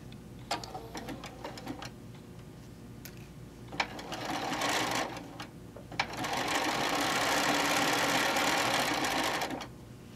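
Sewing machine running a triple stitch, starting with short bursts of ticking stitches, then longer steady runs of rapid mechanical whirring and clatter, close and clear with no talking.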